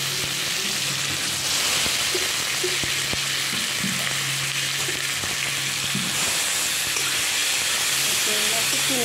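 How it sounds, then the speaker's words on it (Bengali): Large prawns frying in a pan with a little turmeric, giving a steady loud sizzle and hiss throughout with occasional clinks of stirring, no voices. "চিংড়ি দিয়ে দিচ্ছি"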